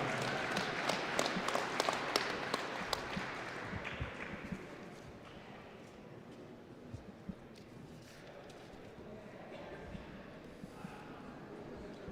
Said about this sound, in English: Please give another round of applause to Brody and his parents for all that they have helped with this program.